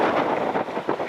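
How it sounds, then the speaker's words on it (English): Gusty wind on an Alaska beach blasts across a filtered microphone in short, rough bursts, a loud, close buffeting rumble with no voices. "it's still really windy, even though I got a filter on"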